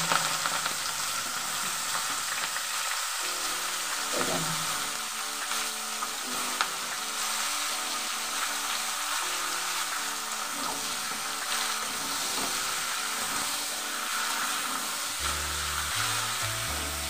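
Bottle gourd and green chilies fry in hot oil with a constant loud sizzle and hiss, and occasional stirring noises come through in the background.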